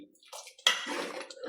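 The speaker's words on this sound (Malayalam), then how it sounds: "നമുക്കിതൊന്ന് ഇളക്കാം" Sambar stirred in a pot gives a brief, close, wet squelching swirl with a sharper scrape partway through, lasting under two seconds.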